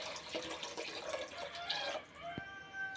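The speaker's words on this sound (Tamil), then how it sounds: "இப்போ வந்து தேவையான அளவு தண்ணி ஊற்றியாச்சு" Water runs and splashes steadily into a pot, a continuous liquid pour with a brief dripping trickle near the end.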